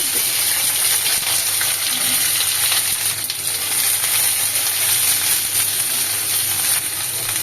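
Roselle flower petals drop into hot oil tempered with five-spice for a tangy chutney, setting off a steady, loud broadband sizzle and frying hiss that runs without a break, with faint stirring and clinks.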